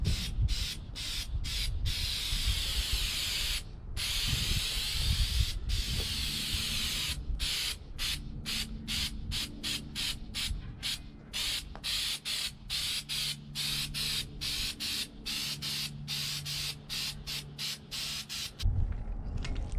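Spray paint hisses in a long run of short bursts as a custom grill for a 2015 Jeep Wrangler JKU gets a final coat, each puff cut off by brief silences in a steady rhythm, close and fairly loud.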